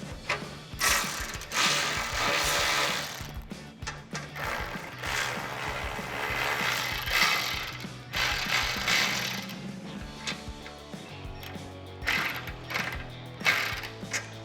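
Nuts on a 2005-2015 Toyota Tacoma rear bumper's plastic trim pieces being tightened with a ratchet, bursts of rapid clicking separated by short pauses, repeated over and over, close and alone.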